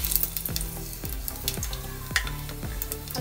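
Cumin and whole garam masala frying in hot oil for aloo keema, a loud close sizzle with a regular series of scraping stirs about every half second.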